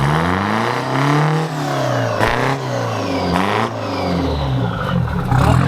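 Detroit Diesel engine swapped into a 1949 Ford F7 truck, revved up twice with the pitch rising and falling, loud and close, with rough idling between the revs.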